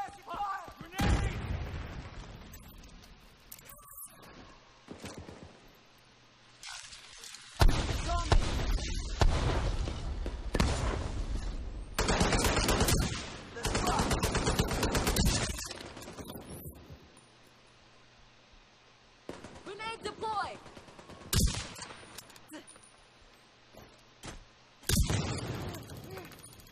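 Suppressive gunfire and grenade blasts in The Division 2, with repeated loud bursts of rapid shots and booming detonations coming in waves, broken by brief lulls, and voices calling out now and then amid the firefight.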